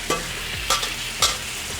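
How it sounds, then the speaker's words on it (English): Shrimp hit a hot Blackstone griddle one after another, three quick, close sizzling slaps over a steady background hiss of frying. "we're gonna go ahead and lay down our shrimp"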